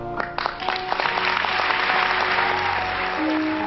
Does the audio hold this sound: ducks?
no